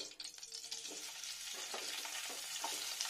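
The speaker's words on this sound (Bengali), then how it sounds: "একটু কাঁচা তেলটাতেই দিলাম, টেস্টিটা ভালো হবে। পেঁয়াজটা দিয়ে নিলাম" Onion frying in a small amount of oil for an egg masala, a continuous close hiss and crackle with light stirring throughout, no voices.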